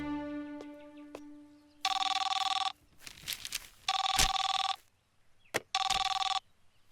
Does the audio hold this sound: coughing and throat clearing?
no